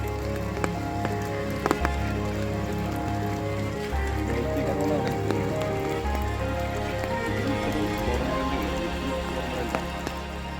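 Steady rain falls on a riverside openbill stork colony beside a railway in Kerala, a dense continuous patter with low rumbling underneath and occasional louder drips, no voices.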